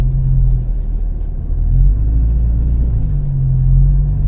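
A 2025 Toyota 4Runner TRD Pro drives on sand at Padre Island beach in manual mode, its engine a steady low rumble that swells slightly as it holds speed, with no talking.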